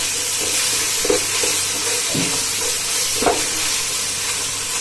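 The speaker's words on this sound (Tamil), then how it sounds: "இது எல்லாத்தையும் சேர்த்து நல்லா வதக்கி விட்டுடலாம்." Four green chillies and spices sautéing in a pan for mutton biryani, a steady close sizzle with several distinct spoon stirs and scrapes, no talking.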